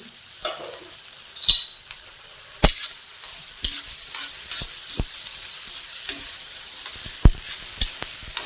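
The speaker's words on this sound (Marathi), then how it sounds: "आता कांदा घालून घ्यायचा चांगला कांदा परतवायचा" Onion sautés in a pan with asafoetida and spice powder for an amaranth greens dish, a soft background sizzle punctuated by sharp, irregular knocks and scrapes of a spoon against the pan, with no talking.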